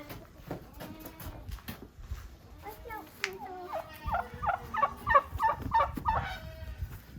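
Several turkeys gobble close by in quick, rippling bursts that grow louder and more frequent toward the end, over a low, busy outdoor background.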